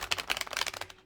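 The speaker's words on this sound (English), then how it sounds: "how the cards are shuffling and they're going all over the place" Tarot cards shuffled briskly by hand, a quick run of close, crisp papery flicks and slaps packed into about a second, with no talking.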